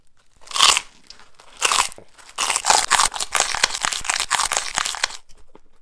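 Loud close crunching as a giant blue Takis rolled tortilla chip is bitten and chewed, a few sharp bites followed by a dense run of brittle crackling chews, with brief quiet gaps between.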